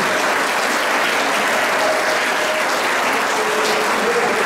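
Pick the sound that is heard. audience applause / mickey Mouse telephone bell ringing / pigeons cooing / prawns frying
audience applause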